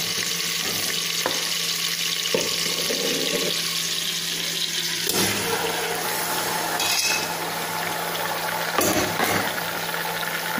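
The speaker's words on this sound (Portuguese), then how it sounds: "Agora, esse cupim vai ser selado, tá? Eu vou deixar fritar de todos os lados" Beef hump sizzles in hot oil in a pressure cooker, a steady close frying hiss with occasional louder spatters and pops throughout, no voices.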